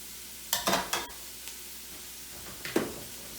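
Vegetables tumble into a pan of sizzling translucent onions: a low, steady fry is broken by a cluster of clattering knocks early on, then a couple more stirring scrapes near the end.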